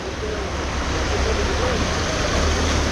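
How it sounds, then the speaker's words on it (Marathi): Floodwater surges as a wave across a flooded station road in Nalasopara, Vasai–Virar, as a loud, steady broadband rush of water mixed with wind buffeting the microphone. "लाट आली बघा"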